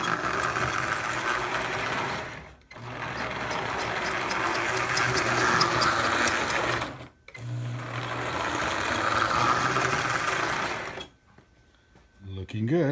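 A repaired Marx 1666 O27 toy train locomotive runs on its track with a fast, buzzing motor whir. The whirring comes in three long runs separated by brief silent stops.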